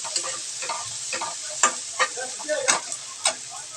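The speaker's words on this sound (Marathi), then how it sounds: "कांदा टोमॅटो आपण चांगला लाल करून घेऊया" Onion and tomato fry in a hot pan, a steady sizzle broken by repeated scraping strokes of a spatula, close up and alone with no talking.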